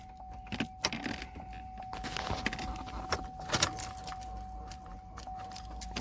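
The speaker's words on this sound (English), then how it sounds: "Get my key, put it in the ignition." Keys jangle and clink close by as a car key goes into the ignition of a 2005 Chevrolet Trailblazer, several brief metallic rattles over a quiet interior with a faint steady tone.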